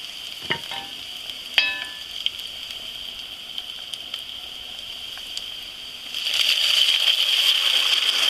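Garlic sizzles in a hot pan for a chicken and kale lasagna, a steady soft frying hiss with a few clinks of a stirring utensil, swelling louder near the end as the pan heats up.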